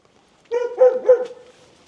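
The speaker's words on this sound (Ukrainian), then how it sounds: "Будьте обережні, собака кусається." A dog gives a quick burst of two or three sharp, close barks within about a second, then quiet.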